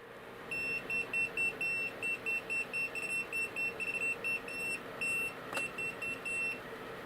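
A Tacklife VT02 voltage detector pen gives a long run of rapid, shrill electronic beeps that pulse regularly and speed up in places. They sound close and continuous, with no voice.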